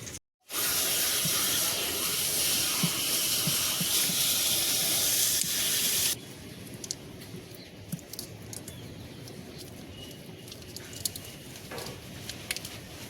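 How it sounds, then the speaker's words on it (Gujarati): Water gushes loudly and steadily from a tap into a bucket for several seconds, then stops, leaving a quiet room with a few faint knocks. "હવે પાણી નાખી બનાવી નાખીએ શેમ્પૂવાળું પાણી."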